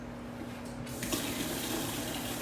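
Hot water running steadily from a kitchen tap during handwashing, a close continuous splashing gush into the sink that grows slightly fuller partway through.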